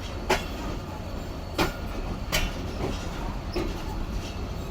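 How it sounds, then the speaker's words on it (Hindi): The 48 Down Rehman Baba Express passenger train on the Peshawar–Karachi line rolls past with a continuous low rumble, broken by a few sharp rail clacks spaced about a second apart, with no voices. "ये रही पेशावर और कराची के दरमियान चलने वाली 48 डाउन रहमान बाबा एक्सप्रेस"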